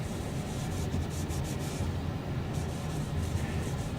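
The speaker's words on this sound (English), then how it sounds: "we got some linseed oil, boiled linseed oil, and we rub it on" A rag rubs boiled linseed oil onto the fretboard of a Taylor 322 acoustic guitar, giving a steady close-up scrubbing and rubbing noise with rhythmic strokes throughout, no voices.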